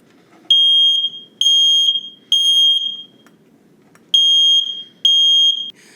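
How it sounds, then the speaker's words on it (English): A fire alarm unit, paired with a flashing strobe light, sounds a loud, shrill electronic tone in five steady bursts of roughly a second each, separated by short gaps of faint room noise. "So here we have our fire alarm."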